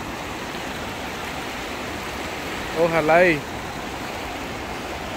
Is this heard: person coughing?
no